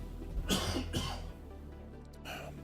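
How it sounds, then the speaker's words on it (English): Two quick, harsh coughs from a man break out close to the microphone, one right after the other, then fade into quiet room noise. "excuse me, I am going to cough for a moment."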